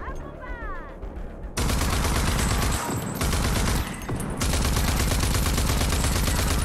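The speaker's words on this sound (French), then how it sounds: "Mais moi j'ai une mitrailleuse." Machine gun fire in Rage 2 comes as loud, dense sustained bursts with brief pauses, dominating the scene after a quieter opening.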